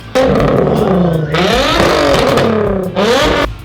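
A straight-piped car exhaust revs loudly and close, rising and falling in three aggressive bursts with a raspy, unmuffled roar between brief pauses.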